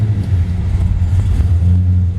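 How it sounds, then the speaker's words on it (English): A 1964 Dodge 330 two-door sedan with a 426 Hemi V8 firing up and settling into a loud, deep, steady idle rumble close by, with no talking. "We're going to go ahead and fire it up just for grins."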